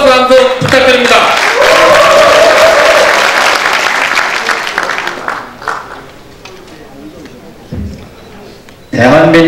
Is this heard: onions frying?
no